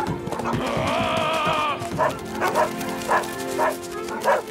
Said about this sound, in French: Oh non, pas les chiens!